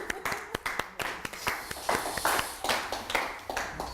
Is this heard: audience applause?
yes